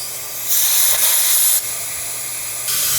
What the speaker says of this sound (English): I'm going to put the air hose on, and I'm going to blow the air through it.